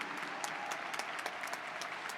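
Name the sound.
graduation ceremony audience applauding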